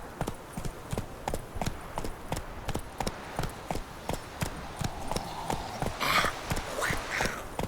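Roach, a horse in the video game The Witcher 3, walks with a steady, even clip-clop of hooves. The footfalls are clear and fairly close over light background ambience, continuing throughout.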